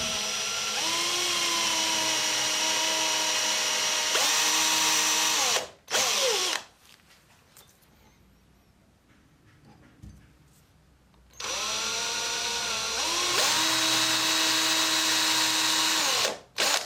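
Electric drill bores into a workpiece on a bench, whining loud and close in two long bursts with a quiet pause between, speed dipping as the bit bites.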